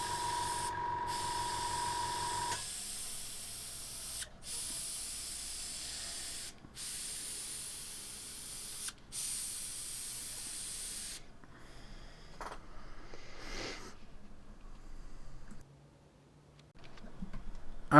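An airbrush sprays paint in a steady hiss, stopping and starting in several bursts before it cuts off and quieter handling noises follow.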